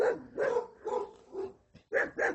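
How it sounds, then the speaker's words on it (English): A dog on a rural hiking trail among sheep and goats barks in a quick series of close, loud yaps, about six barks in a broken rhythm with brief pauses, and no talk over them. "Oh, this dog is running over here."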